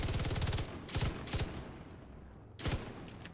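A full magazine of rapid automatic gunfire in a shooter video game, a tight rattling burst first, then several shorter bursts separated by pauses, close and loud.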